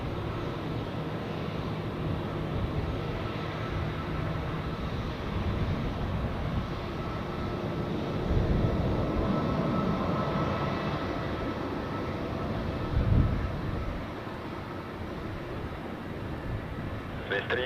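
Aircraft taking off at Zurich Airport, a broad steady engine roar swelling slightly midway, with a voice talking over it and radio chatter.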